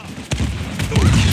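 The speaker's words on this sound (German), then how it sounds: "ich glaube, meine Granate hat was getroffen" A grenade blast in the Uncharted 4 multiplayer shooter lands as a sharp boom, followed by rumbling gunfire and thuds of combat, fairly loud and close.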